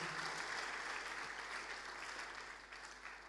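Church congregation applauding at a testimony service, a steady, broad wash of clapping heard somewhat distant and moderately quiet, fading slightly toward the end.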